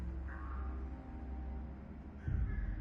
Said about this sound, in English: Oh, and I hear crows too